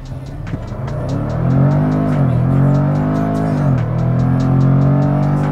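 A Jaguar F-Pace SVR in Track mode does a launch control start, its engine holding a loud steady rev before surging, the deep tone rising and dipping through gear changes, close and with no talk.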